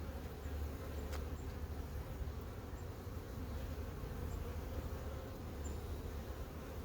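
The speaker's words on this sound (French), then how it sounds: "je vois énormément de larves" Bees hum in a dense, continuous drone from an open beehive, close and steady, with no voices over the buzzing.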